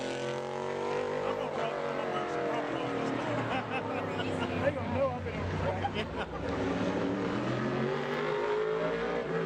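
A modified race car engine revs loudly and continuously through a qualifying run at Bowman Gray Stadium, its roar rising and falling over a crowd murmur and an announcer's voice.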